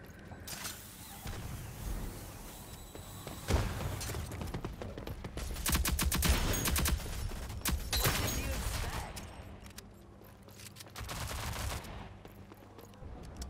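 Rapid gunfire bursts from the online shooter Rogue Company, with dense volleys of shots and crashing impacts that swell loud around the middle and recur later, mixed with game effects throughout.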